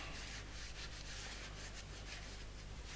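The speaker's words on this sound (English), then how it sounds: "now we're going to clean the inner part of the outer barrel." Soft, steady rubbing and scrubbing as the inner part of a rebreather BOV's outer barrel is cleaned of grease and grit, a continuous close, faint friction sound with slight rhythmic strokes.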